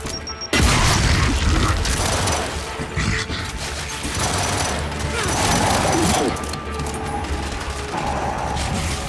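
Gears 5 combat erupts with a loud frag grenade blast followed by rapid gunfire and mechanical clatter, dense and continuous, with brief voices mixed in.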